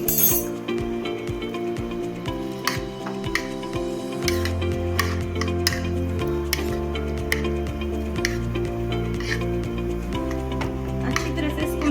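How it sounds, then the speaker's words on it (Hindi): A curd and spice mixture with roasted cumin and chaat masala being stirred in a bowl, a spoon clinking and scraping in a steady repeating rhythm, close and clear, with faint music playing underneath. "अब इस मिक्सचर को हम मिक्स कर लेंगे।"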